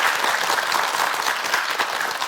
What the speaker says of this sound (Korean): 좋은 말 할 때 박수 한번 쳐주셔야 돼요.